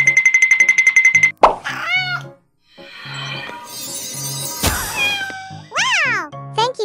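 Cartoon-style cat meows in a miniature cake-decorating setting, several rising-and-falling cries between plops, dings and chimes, close and clear.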